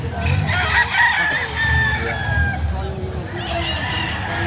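Roosters and chickens at a livestock market in Padre Garcia, Batangas crow and cluck close by in overlapping calls over a busy crowd murmur, with people talking in the background.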